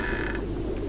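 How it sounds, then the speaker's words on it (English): A door creaks open in the survival horror game Outlast, a brief low groaning creak heard alone. "Alright, open door!"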